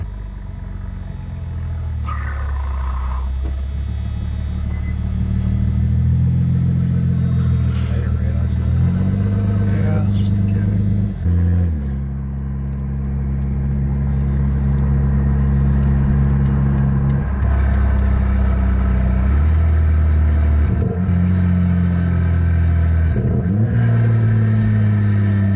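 A BMW 340 on a test drive: a car engine hums and revs through several rises and shifts, close and fairly loud, with occasional voices heard over the motor.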